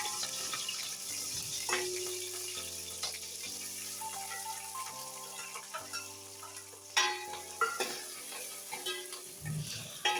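Green chillies and chopped onions being stirred in a hot pan, soft sizzling with clinks and scraping of a spoon over faint background music tones, no talking.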